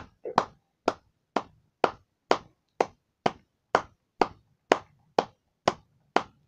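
Close, sharp hand claps honouring Tom Moore and NHS workers ring out in a steady, even rhythm, about a dozen claps in quick succession against near silence.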